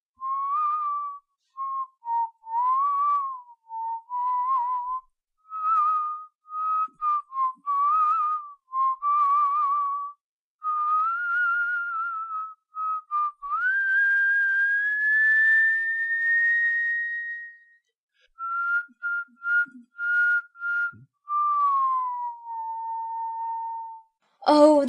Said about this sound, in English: and began whistling